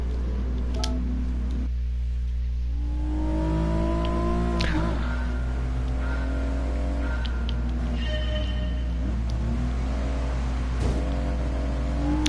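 Nissan 300ZX engine in GT Sport racing on a wet track, revving and shifting with rising and falling pitch over a steady low rumble, loud and continuous.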